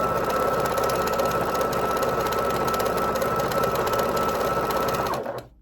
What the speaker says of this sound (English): Though it is only a straight stitch machine, so I can't do any of my decorative stitches.